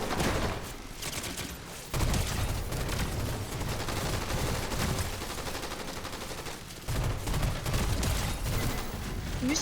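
Dense, continuous gunfire from the Fortnite battle royale, a loud unbroken barrage of rapid shots that surges again after a brief dip, with no voices over it.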